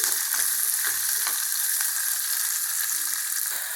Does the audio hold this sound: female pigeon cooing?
no